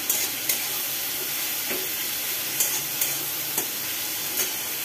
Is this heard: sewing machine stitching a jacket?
no